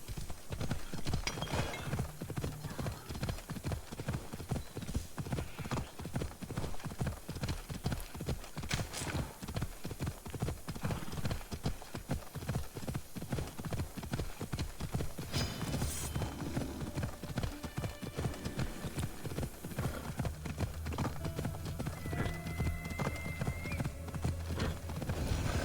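Rapid, continuous hoofbeats of a horse ridden in a video game, close and loud throughout, with a brief whinny near the middle; no talk.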